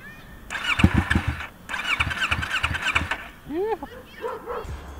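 A cold Yamaha MT-03 motorcycle engine cranks and catches in rough bursts, close and loud, while a dog barks nearby and a voice is heard in the background.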